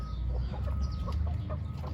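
Mixed flock of Indian game, village hens and naked neck chickens in a coop, clucking and squawking continuously at close range over a low barnyard rumble.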